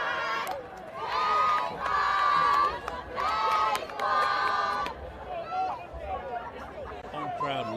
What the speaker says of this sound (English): Home crowd loving that touchdown.